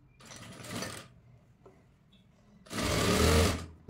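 Sewing machine running in two bursts, stitching fabric frills with a dori-style stitch for a girl's frock, the second burst louder and steadier than the first, with no talk.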